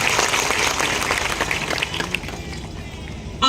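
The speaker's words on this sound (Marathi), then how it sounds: "त्यांच्यासाठी जोरदार टाळ्या झाल्या पाहिजे" A crowd at a political rally applauds, loud dense clapping that gradually thins and fades, with a short sharp sound near the end.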